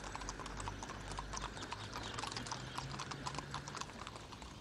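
Horses carrying riders in samurai armour head to a festival, hooves clip-clopping in a steady, quick rhythm, faint and distant with a soft background hiss.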